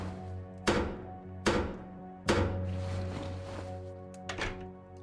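A barricade is repaired in the video game Guild Wars 2 with a series of hollow wooden thunks: three sharp, evenly spaced knocks, then a softer double knock, each ringing briefly and heard alone.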